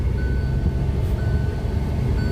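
Hyundai i20 turbo GDI petrol with a DCT gearbox pulls through its gears on the move, a steady close cabin engine drone and road rumble with a faint high whine and no distinct break at the shift.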